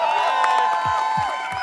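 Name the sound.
audience applause and cheering at a conference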